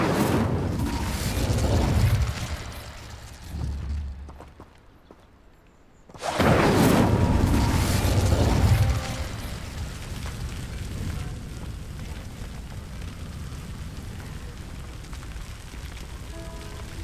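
Incendio fire spell bursts in Hogwarts Legacy, heavy roaring blasts with a sharp loud eruption midway after a brief lull, then a sustained crackling rumble tailing off.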